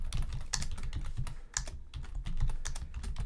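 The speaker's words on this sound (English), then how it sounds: "So I'm just going to type a few names." Rapid typing on a computer keyboard as student names are entered into a Google Sheets attendance tracker, with close, steady clusters of key clicks and a short pause partway through.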